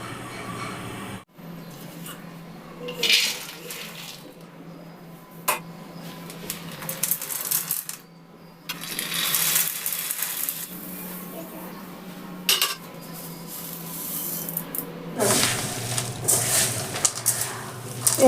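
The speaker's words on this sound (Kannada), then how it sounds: "ಎಲ್ಲ ಹಾಕಿ ಒಟ್ಟಿಗೆ ಎಲ್ಲ ಮಿಕ್ಸ್ ಮಾಡ್ಕೊಳ್ತಾ ಇದ್ದೀನಿ ಕೈಯಲ್ಲೇ" Sesame seeds and jaggery pieces stirred together by hand in a bowl for a Sankranti ellu bella mix, giving a steady rustling, gritty scraping with occasional light clinks of a dish, close up and continuous over quiet background.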